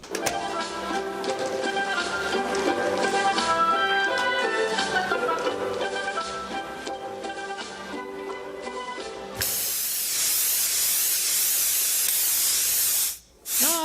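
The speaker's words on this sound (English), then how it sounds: "this paint sprayer goes along all right for a minute, then chokes up" Paint sprayer hissing while spraying a Christmas tree white in a radio drama, a loud steady spray that sputters briefly near the end, following a stretch of music.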